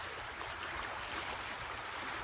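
Steady, soft rushing of flowing water, a continuous hiss with no voices or other sounds.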